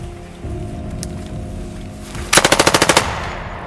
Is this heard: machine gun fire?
yes